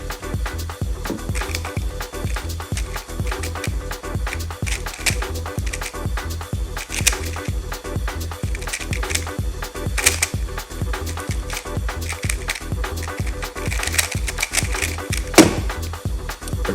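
An old stickered Rubik's cube turned fast in a speed solve: dense, steady clicking and clacking of the plastic layers, close and continuous, with brief pauses between bursts and no talk.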